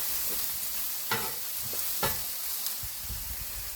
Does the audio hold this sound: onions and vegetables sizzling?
yes